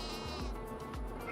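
Sheep on a farm in the Farming Simulator 25 video game bleat in a short burst of wavering calls, close and clear over a steady background hum.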